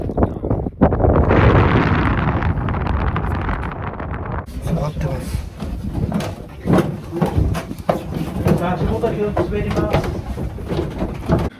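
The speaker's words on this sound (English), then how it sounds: "the wind is kind of strong" Strong wind blows across the microphone at the Bent Pyramid in Egypt, giving heavy, rumbling gusts up close. A person speaks over the buffeting in the later part.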